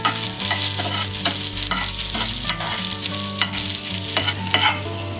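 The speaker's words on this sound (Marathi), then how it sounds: "कांद्याला चांगला तांबूस रंग येईपर्यंत आपल्याला परतून घ्यायचं।" Onions sautéing in hot oil in a pan until golden brown, a steady loud sizzle with continual stirring scrapes and no one speaking.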